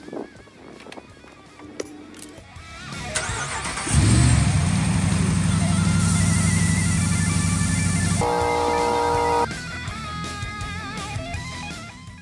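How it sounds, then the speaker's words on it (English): A car engine is cranked by the starter and catches, then idles loud and steady for several seconds before the tone shifts and the running note settles quieter. "The screen will then prompt you to start the engine."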